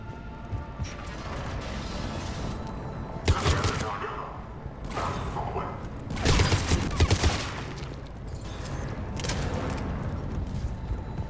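Heavy cannon fire from a video game booms in three loud bursts, separated by lulls of rumbling background noise and voices.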